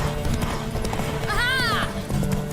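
Horse hooves clip-clop steadily through a race in The Witcher 3 video game, with a short whinny partway through and speech over the action.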